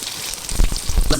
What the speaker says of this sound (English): Now as this is sizzling